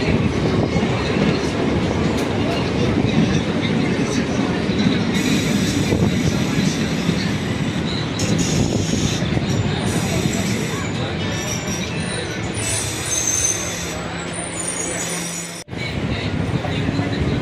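A train pulls out of Trichy Town station with a loud, steady rumble of wagons, rhythmic clickety-clack and occasional wheel squeal, close and continuous throughout.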